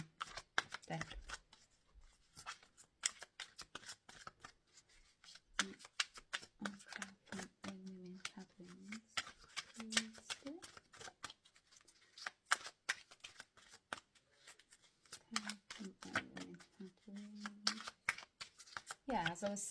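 A deck of oracle cards is shuffled close by in repeated quick riffling bursts, while someone speaks quietly throughout.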